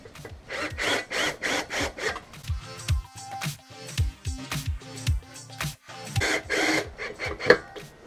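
Screws being driven by hand to fasten a 12-litre cider press stand onto a table, giving repeated rasping, creaking twists in short rhythmic bursts with brief pauses, close up and fairly quiet.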